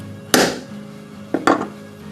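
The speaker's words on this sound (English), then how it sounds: "Again, I'll use a hammer and punch" A hammer taps a punch set in a hole on a metal jewelry plate while setting up a rivet, one sharp metallic strike followed by two quick taps about a second later, close and clear.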